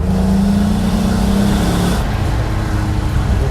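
A Peugeot 406 Coupé with a 3-litre V6 and no Super Sprint silencer runs nearby, a loud steady low drone that fills the whole clip, with a slight shift in tone about halfway through.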